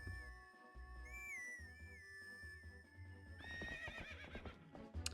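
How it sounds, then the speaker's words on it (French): A horse whinnies and hooves clip-clop through the Zelda Twilight Princess HD video game, with the neigh rising clearly over steady game music and effects, loud and close for a few seconds. "je vais appeler le cheval"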